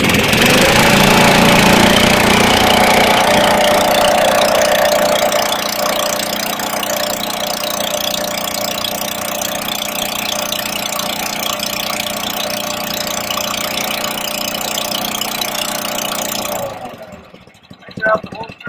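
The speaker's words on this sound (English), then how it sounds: "So again, we're idling right now." Snowplow engine idles with a steady, fairly loud mechanical drone that eases slightly in pitch partway through, then cuts off near the end, with someone speaking over it.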